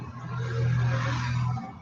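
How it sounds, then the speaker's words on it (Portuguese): A car passes on a road near a veranda, a broad whooshing rumble swelling toward the middle and fading out, heard alone. "Vocês vão ficar escutando o barulho do carro"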